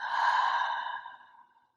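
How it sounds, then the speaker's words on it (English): A single long breath during beginner yoga practice, a soft breathy exhale that swells quickly and then fades gradually over under two seconds, close and clear with no talk. "Inhale here and exhale."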